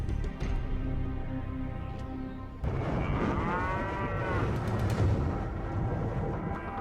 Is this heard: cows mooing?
yes